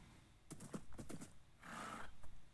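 A few hoofbeats thud before a horse lets out a brief breathy neigh, followed by one more hoof strike against a quiet background.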